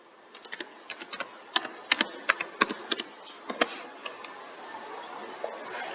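Quick keystrokes on a computer keyboard typing a website address, a close burst of crisp clicks in an uneven rhythm, then a short pause and a last tap.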